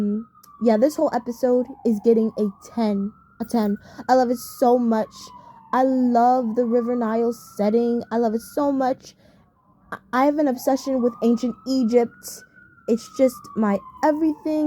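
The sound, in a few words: emergency vehicle sirens in the background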